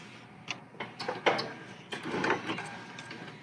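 A Bernina Q series sit-down quilting machine runs its securing stitch, a quiet close series of soft mechanical ticks and short whirring bursts.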